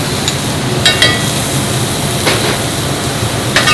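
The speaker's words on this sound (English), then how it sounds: "Now over here, we're sweating all our vegetables. We're going to add our onions into this." Diced onions and other vegetables sweat in a pan for a Thanksgiving-leftovers turkey soup, giving a steady, moderate sizzle with a few brief sharper clicks.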